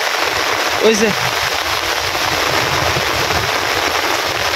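Heavy flood rain falls in a steady loud hiss, with a brief voice-like sound near the start rising over the downpour.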